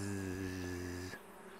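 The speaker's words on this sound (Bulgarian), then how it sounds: "Може би чувате приятният бъз," Bees and other pollinators buzz steadily in a summer morning garden in a Bulgarian village, a close continuous drone for about a second before it fades to a quieter hum.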